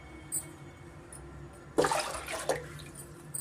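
Water is poured into a pressure cooker holding soaked black rice for a kheer, a brief splashing gush of about a second against a quiet kitchen background.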